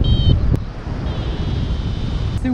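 Strong south wind roaring past a paraglider flying low over treetops in the Chartreuse mountains, a steady loud rushing buffet across the microphone with brief faint electronic beeps.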